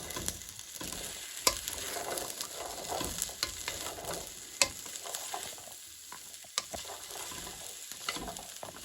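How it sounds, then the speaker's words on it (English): Broad beans being stirred in a frying pan for a curry sizzle steadily, with soft scraping and occasional clicks of the spoon against the pan close by. "And make sure you stir them in well."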